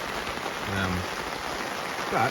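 Heavy tropical rain pours down steadily at a campsite with a hammock, a dense constant hiss throughout, while someone speaks briefly over it.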